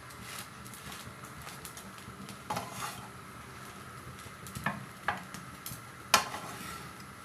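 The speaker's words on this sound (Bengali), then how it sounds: "এটা একটু হালকা করে ভেজে নিতে হবে।" Bread slices lightly frying in a pan for a Bengali bread malai curry, a soft steady sizzle with a few sharp clinks and scrapes of a utensil against the pan, close up with no talking.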